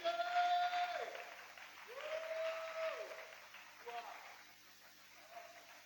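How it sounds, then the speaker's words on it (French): A church congregation applauds and cheers for the Lord during a French-language sermon, with a broad wash of clapping and voices throughout, loudest at the start and tapering unevenly, a sustained tone sounding beneath. "Quelqu'un peut acclamer pour le Seigneur?"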